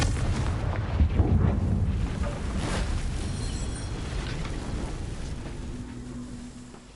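A Confringo blasting spell from the Harry Potter world goes off as a heavy, rumbling explosion, loud and close, with a long rolling roar that slowly fades over several seconds.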